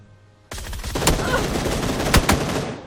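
Gunfire in PUBG Battlegrounds: after a short quiet lead-in, a sustained loud burst of rapid automatic shots, with a few sharper, louder cracks standing out near the end.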